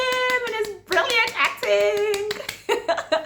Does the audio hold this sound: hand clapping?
yes